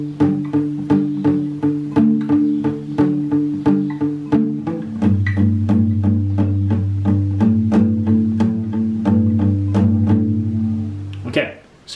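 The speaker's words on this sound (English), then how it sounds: "so the next section we're gonna look at is the section just after the chorus, and that's where all that extra guitar comes in." Acoustic guitar plays the melody section after the chorus of a song, a plucked single-note line with repeating bass notes in a steady rhythm, close and clear with no talking.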